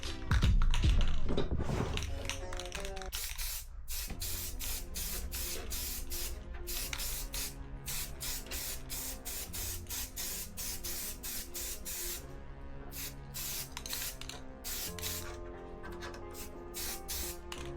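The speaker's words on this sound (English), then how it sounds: "actually gonna paint this way because I don't want any overspray on my other stuff. And we're just gonna do a light coat." Aerosol spray paint hissing in short rapid bursts as a light coat goes onto a scooter, loud and close, the spurts coming in a quick steady rhythm for the whole stretch.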